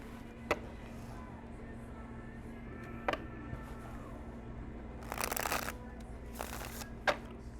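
Oracle cards are shuffled quietly up close, with a short riffling burst and a few soft taps against a low background hum.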